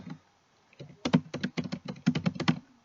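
Code is typed on a computer keyboard in a quick, uneven run of close, crisp keystrokes with short pauses between bursts, and no one talks.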